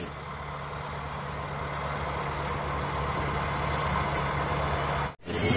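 A tow truck engine idles steadily at close range, a low continuous rumble with a constant hum, cutting off abruptly near the end.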